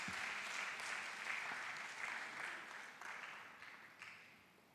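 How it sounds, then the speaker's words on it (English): Audience applause for award winners at an academic ceremony, a wash of many hands clapping, steady and somewhat distant, slowly fading toward the end. "Please give a huge round of applause to all the winners."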